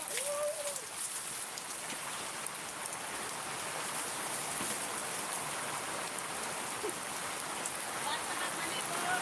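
Steady, dense rain pours down on a farm while people bathe out in it, an even hiss of falling water that continues unbroken and close.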